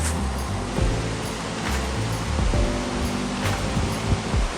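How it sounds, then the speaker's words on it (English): Waterfall at Styers Mill, a steady broadband roar of falling water that holds close and loud throughout, with no voices over it. "but look at the waterfall"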